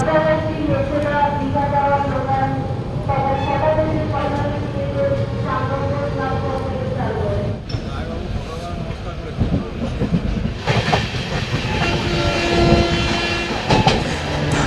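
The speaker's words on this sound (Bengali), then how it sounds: "সাঁতারগাছি স্টেশন থেকে আট মিনিট লেটে ছাড়লো ট্রেনটি" The Rupashi Bangla Express rumbles and clatters as it pulls away from Santragachi station, wheels clicking over rail joints while the noise builds, with a voice talking over it.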